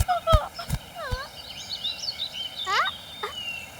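A cartoon small bird chirps in quick, squeaky rising and falling whistles, close and bright, mixed with a few sharp knocks or thumps.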